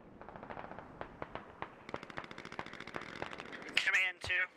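Mortar shells burst in the tactical shooter Squad: a scattered series of sharp cracks and thuds, some near and some farther off, with small-arms fire mixed in, under radio-style talk, and a couple of louder, longer blasts at the end.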